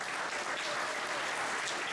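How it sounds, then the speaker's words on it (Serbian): Thunderous applause fills a hall at the end of a talk, dense and sustained clapping from a large crowd with no break. "završen gromoglasnim aplauzom"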